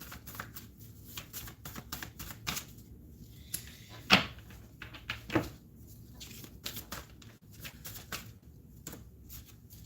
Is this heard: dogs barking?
no